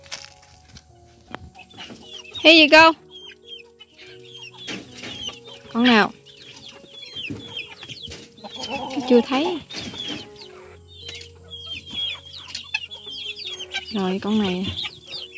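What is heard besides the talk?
chickens clucking around a rooster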